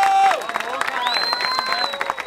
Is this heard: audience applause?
yes